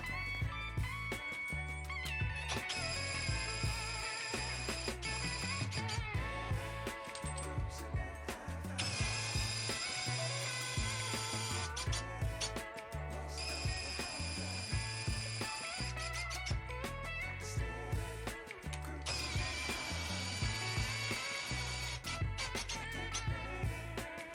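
A cordless screwdriver drives the handle of a budget pipe bender in four bursts of steady whirring, each a few seconds long, separated by short pauses over a constant low background.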